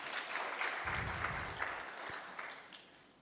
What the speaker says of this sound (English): Round of applause for Team B.